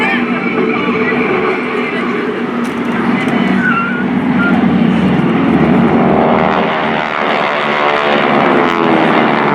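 Formation of GEICO Skytypers propeller planes passing show center at the 2019 NAS Oceana airshow, a loud, steady multi-engine drone with rising and falling pitch as the aircraft sweep past, while a commentator talks over it.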